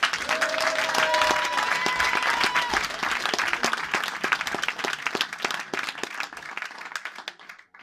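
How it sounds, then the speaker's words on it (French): A comedy show audience, a competition for candidate comedians, claps and applauds loudly and steadily, then the applause thins out and dies away over several seconds, with a few voices briefly audible at the start. "je vous demande d'applaudir s'il vous plaît le quatrième et dernier candidat, Lautrec."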